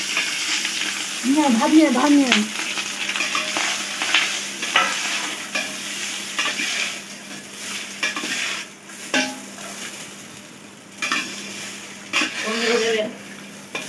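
Bay leaf, cloves, cinnamon and cardamom fry in hot ghee for a mutton meal, giving a close, continuous sizzle with stirring scrapes and pan clatter, while people talk briefly over it.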